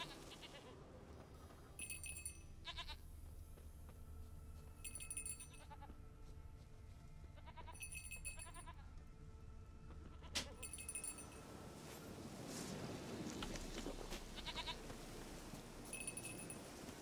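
Quiet bleats from a goat in The Witcher 3 repeat several times at a distance over a low ambient game soundscape, joined by faint jingling of a bell.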